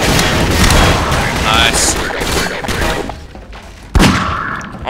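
Gunfire in the Half-Life 2 shooter game, with booming shots and thuds scattered over several seconds and a sharp loud blast near the end, while someone talks over it.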